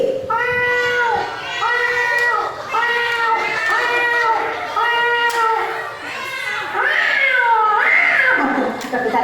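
Human voices imitate a cat with a loud, continuous run of overlapping, wavering meow calls that repeat rhythmically close by.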